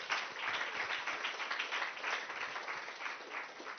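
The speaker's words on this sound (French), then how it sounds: "On peut vous applaudir aussi." A conference audience applauds at the close of an international education event, a dense, even wash of many hands clapping that holds steady throughout without any voices.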